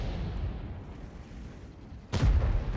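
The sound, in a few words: tank cannon shot in the video game World of Tanks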